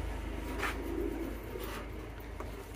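A prized pet pigeon on a farm coos softly in a couple of brief, low calls over steady background noise.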